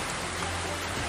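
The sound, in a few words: heavy rain falling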